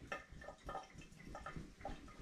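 Hot water poured out of softened plastic bungs for cider bottles, a faint run of splashing and dripping with small irregular bursts, quiet and close.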